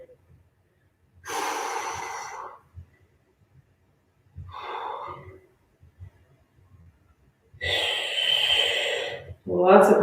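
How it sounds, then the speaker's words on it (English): Heavy, forceful breaths during an exercise workout come in four loud gasping bursts, each about a second long, separated by quiet pauses. "Lots of breathing."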